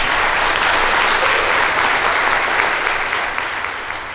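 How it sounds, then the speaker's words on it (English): Loud, dense applause fills a hall at an international simulation and gaming conference, a steady crowd of many hands clapping together, slowly tapering off near the end. "So a huge applause to Nicolas and his team."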